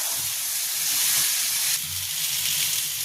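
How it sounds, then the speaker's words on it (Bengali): Potatoes and pointed gourd fry with spices in a pan, giving a dense, hissing sizzle that swells slightly midway and carries steadily throughout. "এবার আলু পটলটাকে ভালো করে কষাবো"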